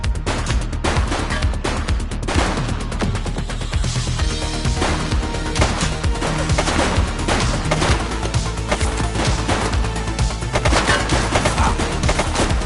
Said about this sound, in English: Suspect down. He's shooting! Hold your fire!